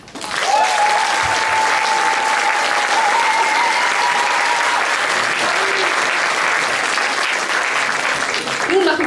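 At a youth song-contest concert in Moers, a large audience bursts into loud, sustained applause that stays dense and even throughout, with cheering voices and a whistle rising over the clapping.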